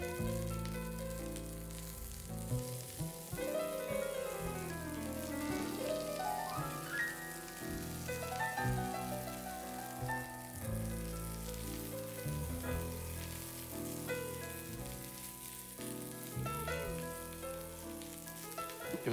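Corn fries in a pan with olive oil, a dense continuous sizzle and crackle heard up close, with layered musical tones running underneath and no voices.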